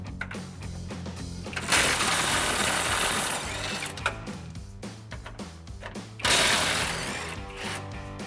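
Rear frame bolts on a 2016-2023 Toyota Tacoma being removed with a 17mm socket, giving a loud whirring, ratcheting mechanical run in two bursts with a short pause between them.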